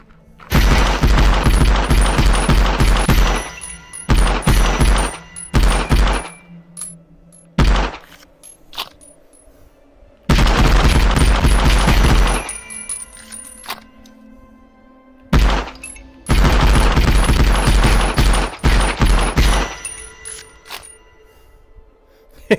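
Gunfire in the VR video game The Light Brigade: long bursts of rapid, very loud shots and heavy thumps, broken by short silences and a few single reports.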